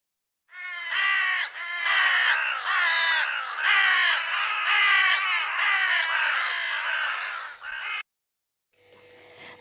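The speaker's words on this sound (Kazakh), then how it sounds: "қарғалар," Several crows caw in a snowy winter setting, a loud, nearly unbroken run of harsh overlapping calls close by, stopping abruptly before a brief quieter sound at the end.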